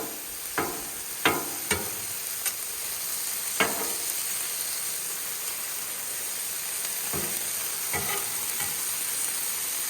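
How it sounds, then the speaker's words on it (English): Shrimp fry on a Blackstone griddle with a continuous bright sizzle, broken by several sharp scrapes and clinks of a spatula against the steel surface, and nobody speaks. "we're going to put the shrimp on"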